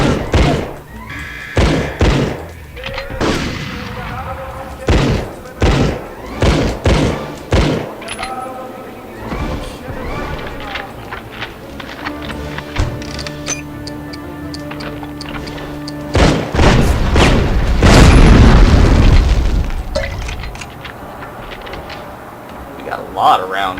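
Gunfire and explosions from the Medal of Honor video game, with bursts of heavy thuds and booms in irregular clusters, loud and close, followed by a sustained roaring blast.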